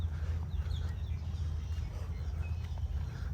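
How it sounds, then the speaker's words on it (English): Clucking of a duck-like chicken in a public garden, a few soft, short calls scattered over steady low rumbling background noise, fairly distant. "That is a duck chicken."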